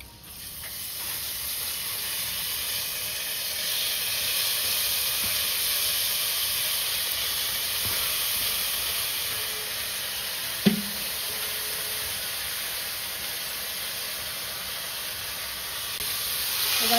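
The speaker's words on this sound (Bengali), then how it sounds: "ভেজানো গোবিন্দভোগের চালটা জলটা ঝরিয়ে এর মধ্যে দিয়ে দেবো।" Soaked, drained Gobindobhog rice hitting a hot pan of fried potol with salt and turmeric gives a steady, loud hiss and sizzle that runs throughout, with one brief clatter near the middle.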